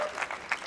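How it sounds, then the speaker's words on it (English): A comedy show audience claps and cheers for Saudi City, giving a short burst of applause with a whoop rising near the middle. "clap for Saudi City."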